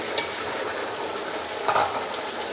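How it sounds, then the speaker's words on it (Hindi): Chicken pieces going into a pot of browned onions, with a steady close frying sizzle throughout and a brief louder burst of spatter and stirring near the end; no one talks. "अब हमने इसके अंदर डाल देना है चिकन।"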